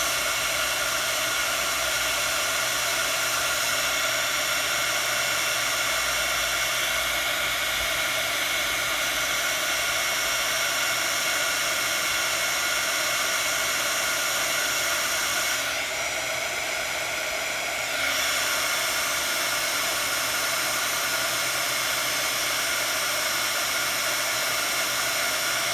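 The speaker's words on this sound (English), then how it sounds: "bring in our heat tool, get it hot for about 15-20 seconds, and then we're just going to heat set it" A craft heat tool blows hot air to heat-set embossing powder on a handmade card, a continuous loud fan-like whoosh held steadily close by, dipping briefly partway through.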